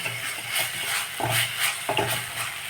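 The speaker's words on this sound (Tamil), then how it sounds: "மசாலாவை போட்டு நல்லா ரெண்டு நிமிஷம் வதக்கிடலாம்" Masala sizzles as it is sautéed in a pan for a spinach dish, with a soft steady frying hiss and a few scraping stirs of a spoon, close and moderately quiet.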